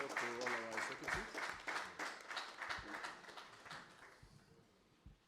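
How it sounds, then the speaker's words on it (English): A crowd at an inauguration ceremony claps in a burst of applause that starts full and gradually thins out over several seconds, with a voice briefly underneath. "let's give one applause to all our secretaries"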